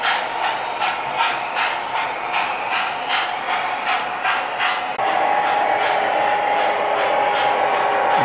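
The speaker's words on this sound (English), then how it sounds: "now the trains are coming around the first reader, which is the one in front of this station" Model trains running around a home layout fitted with RFID tag readers, a close, continuous rhythmic clatter of small wheels over rail joints, steady and even, with no voices.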